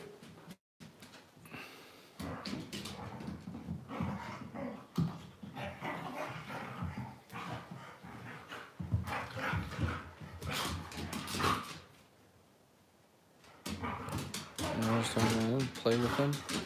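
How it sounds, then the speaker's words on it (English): Husky dogs roughhousing with puppies, with scattered whimpers, snorts and short barks under ongoing indoor talk, one quiet gap near the end. "Huskies do tend to play a little aggressively with puppies"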